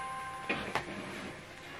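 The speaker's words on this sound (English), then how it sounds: "so right now this printer is coming on" An HP Envy 6030 printer powering on produces two quick, sharp mechanical clicks close together in a quiet room, followed by a faint steady background hum.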